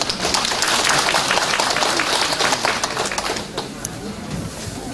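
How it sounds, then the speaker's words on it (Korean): Audience applause at a Jinju rally welcoming a newspaper president to the stage: dense, sustained clapping from a crowd that thins and fades toward the end, with a few voices underneath. "박수로 맞이해 주시기 바랍니다"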